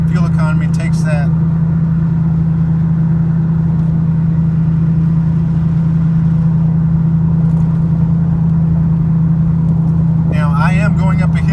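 A 2014 Ford Raptor pickup engine drones steadily from inside the cab during stop-and-go city driving, a loud, constant low hum that runs throughout, with a voice speaking briefly at the start and again near the end.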